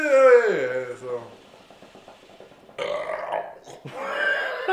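A loud, wet gut burp rolls out at the start and fades over about a second, followed by people talking.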